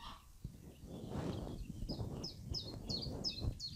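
A nightingale singing outdoors, a series of short, bright whistled phrases repeating in a quick rhythm at moderate distance over soft low background rumble.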